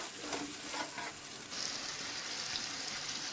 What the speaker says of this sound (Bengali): অল্প একটু গরম জল দিয়ে দিলাম, দিয়ে আমি 2টো কাঁচা লঙ্কা দিয়ে দিলাম